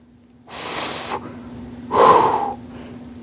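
Two heavy, deep breaths during a stick mobility workout with lunges, a long exhale followed after a pause by a stronger, rougher breath, close and loud.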